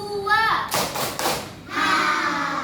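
A group, children among them, claps the second round of a 'tepuk semangat' chant: a quick cluster of loud, dull claps lasting about a second, with voices before and after.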